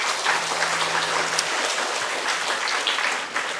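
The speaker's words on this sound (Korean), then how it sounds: "하나님께 영광의 박수 올리겠습니다" Congregation applauding during a Korean church worship service, a loud, sustained burst of many hands clapping that fills the whole stretch without speech.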